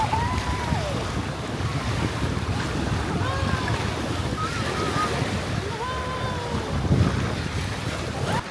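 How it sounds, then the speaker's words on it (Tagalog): Waves wash and surge continuously around a boat off Southern Leyte, with heavy wind buffeting the microphone and faint voices in the background. "Mas malumanay daw ang alon dito."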